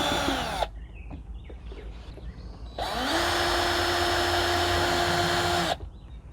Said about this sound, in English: Okay, there's our screws drilled.